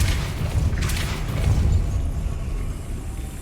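A Depulso force spell is cast in the PC game Hogwarts Legacy, giving a deep rumbling boom with a bright whooshing burst on top that fades over a few seconds.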